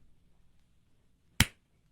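A single sharp hand clap, loud and close, standing alone in near silence in the middle of the moment.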